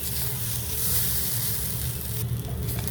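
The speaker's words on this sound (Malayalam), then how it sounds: "2 teaspoon ginger garlic paste add ചെയ്യുന്നു. അതൊന്ന് പച്ചമണം മാറുന്ന വരെ ഇളക്കുക." Ginger garlic paste sizzles steadily in a hot pan while it is stirred for a few seconds during mushroom do pyaza cooking, a dense continuous fry with low scraping underneath, close and alone.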